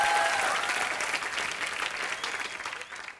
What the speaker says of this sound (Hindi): एक बार हमारी इंडियन वीमेंस क्रिकेट टीम के लिए जोरदार तालियां